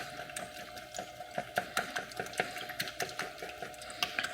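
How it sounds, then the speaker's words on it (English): Eggs are whisked in a bowl, a quiet run of quick irregular clicks and taps from the whisk against the bowl, close and alone. "And I'm just gonna whisk."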